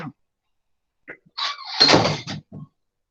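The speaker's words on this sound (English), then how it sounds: "I just close the door." A door being closed indoors: a faint knock, then a rising rustle that builds into a longer clattering thunk lasting about a second, and a short final tap as it settles. No one speaks over it.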